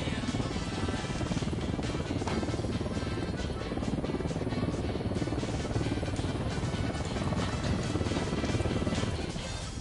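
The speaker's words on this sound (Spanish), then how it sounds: "Se acerca un helicóptero." A helicopter drones steadily throughout, a dense, continuous rotor roar that stays loud and even with no clear rise, over a mix of clattering background noise.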